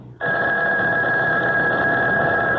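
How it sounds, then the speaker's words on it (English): Telephone ringing in a 1974 CBS Radio Mystery Theater drama: a loud, steady electric bell ring starts abruptly and holds continuously, alone with no voices. "When the phone rang the day after my luncheon with Uncle Edgar"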